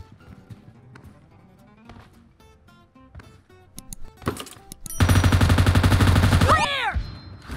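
Gunfire in a video game team deathmatch shootout: scattered single shots and short bursts, then a long loud sustained automatic burst, close and dominant, with no talking.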